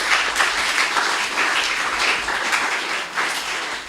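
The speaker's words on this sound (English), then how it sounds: "So let's clap for her whilst we continue the program." An indoor audience at a district mathematics week celebration claps steadily and loudly, a dense, even applause with no talk over it.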